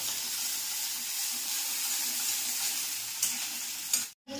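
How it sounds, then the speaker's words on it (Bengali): Onions, green chillies and capsicum fry for chow mein in a steady, close sizzle that runs unbroken until it cuts out abruptly near the end, with no one talking. "পেঁয়াজ, কাঁচা লঙ্কা, ক্যাপসিকাম এগুলো দিয়ে দিলে। এবার কি হবে? এগুলো একটু একটু ভাজবা।"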